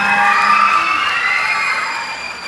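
An audience at the Queen of San Jose 2025 pageant candidate introductions cheers and applauds loudly, a dense crowd roar with shrill shouts that holds for a couple of seconds and then eases slightly.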